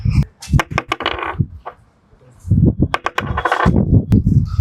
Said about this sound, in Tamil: அந்த மைக்க மேல இருந்து கீழே போடுங்க